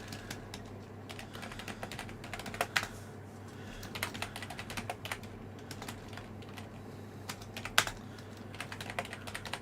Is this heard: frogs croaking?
no